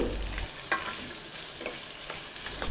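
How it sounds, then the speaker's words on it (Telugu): Radish pieces fry with large chunks of onion and salt in a pan, a soft continuous sizzle broken by a few light stirring scrapes, quiet and close. "ముల్లంగి పింక్ కలర్ టర్న్ అయ్యేంత వరకు ఫ్రై చేయాలి"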